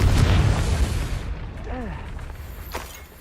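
A booming Confringo explosive spell blast in Hogwarts Legacy, a loud burst at the start decaying into a rumbling tail, with a brief voice and a fainter later swoosh.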